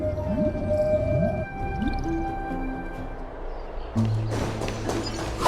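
Electra's whale-like siren call in the Honkai: Star Rail video game, a low, echoing moan sung over a busy, layered game soundscape with a deeper tone swelling in near the end.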